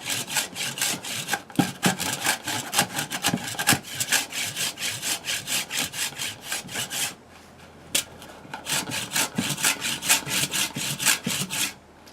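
Surform rasp shaves the inside of a eucalyptus wood bowl in fast, rhythmic rasping passes, loud and close, with a short pause before the strokes resume.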